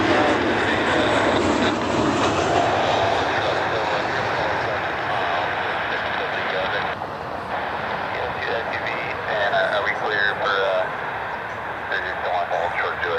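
United airliners taxiing at Cleveland Hopkins airport give off a continuous loud jet-engine roar and whine that carries steadily throughout, with a voice speaking over the noise at times.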